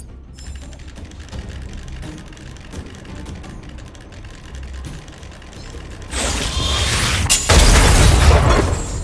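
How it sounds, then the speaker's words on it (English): Automaton stealth bomb going off in Honkai: Star Rail, heard after a stretch of clicking, ratcheting game mechanism sounds; a loud burst erupts, followed by a heavier deep boom that rumbles to the end. "We wiped them all out in a single explosion!"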